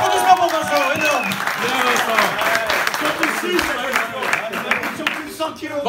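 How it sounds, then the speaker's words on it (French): Studio audience applause for a contestant on a French TV quiz show, steady clapping for several seconds mixed with a host's voice talking over it. "applaudissements pour Vincent, énorme"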